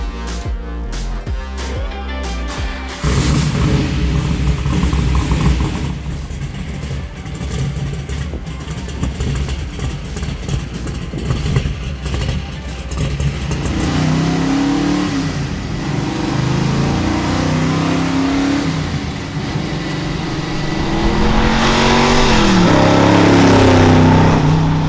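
A NASCAR-inspired Dodge Charger with a 472 Hemi engine drives along, its loud, raw engine note continuous and close, with the revs climbing midway and again near the end; no one speaks.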